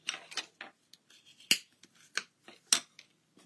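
A scoring tool drags across a paper box template in short scraping strokes, with soft rubbing and two sharp ticks, close and quiet with no talk.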